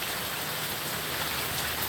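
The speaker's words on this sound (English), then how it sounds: "the rain is really fierce right now" Heavy rain pours down in a fierce Virginia storm, with a downspout overflowing nearby. It makes a steady, dense hiss of rain that stays constant and loud throughout, with no talking.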